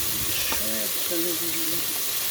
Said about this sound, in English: Rinsing the greens.